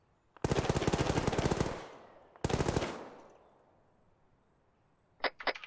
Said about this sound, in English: I'm shooting from the south, right?